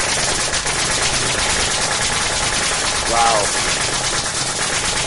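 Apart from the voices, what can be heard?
nail gun firing nails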